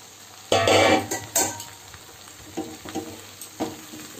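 Water spinach and green amaranth frying with onion and garlic in a pan over medium flame, a loud sizzle burst followed by repeated spatula scrapes and stirring clatter at irregular intervals, close by, with no talk.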